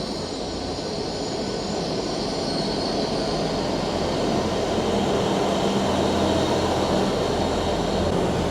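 A GWR train rumbles steadily into Exeter Central station, a continuous broad roar of wheels on rails with faint high squealing, no voices.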